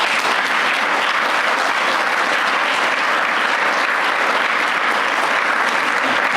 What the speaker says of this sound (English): please give the panel a big round of applause